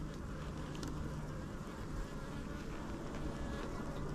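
Honeybees droning steadily on a hive frame during an inspection, a low continuous buzz with soft background rustle and no voices.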